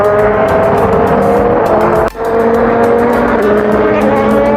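A pink Inter-Europol endurance race car screams past on the Barcelona circuit, its loud engine note holding steady before a brief dip mid-pass and then carrying on with no voices.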